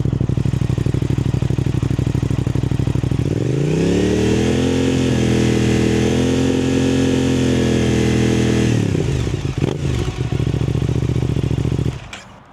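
A nearby Aprilia RS660 fitted with an aftermarket exhaust idles loudly, then climbs into a sustained high rev that holds for several seconds before dropping back to a rough idle and cutting off.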